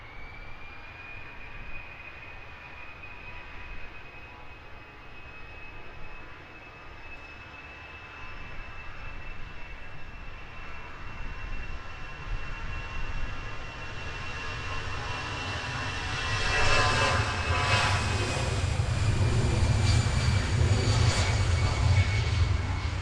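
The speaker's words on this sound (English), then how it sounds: "the latest Wizz Air arrival in from Cluj" A Wizz Air jet arriving at London Luton Airport, its engine roar building gradually from a distant whine to a louder, rumbling pass with a high tonal whistle, heard alone without talk.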